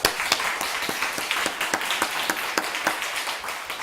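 A church congregation claps in thanks, with brisk, fairly regular applause that stays steady throughout at moderate distance and no voices over it.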